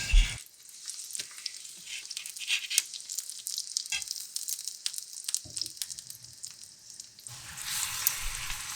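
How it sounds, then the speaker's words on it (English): Honey cheese paratha shallow frying in hot oil on a flat pan, a steady bright sizzle with crackling bursts throughout, close and fairly loud, with a few clinks of handling. "When the oil is heated up, shallow fry the pie,"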